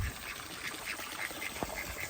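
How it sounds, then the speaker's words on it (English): Ducks in a pond give a rhythmic series of about eight quacks, moderately close and fairly quiet over a steady background hiss, with no talking. "Still got a few ducks down there."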